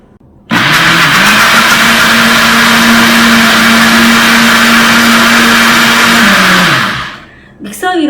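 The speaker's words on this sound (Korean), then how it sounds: "그래서 이제 믹서기만 돌려주면 끝이에요." A blender whirs loudly and steadily for several seconds at a constant pitch while blending a tofu snack, then winds down and stops, with a brief clatter at the end.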